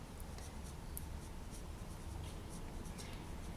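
A tool scratches a pattern into soft polymer clay mixed with foil, a faint continuous dry scraping and rubbing with small strokes, close and quiet, with no voices.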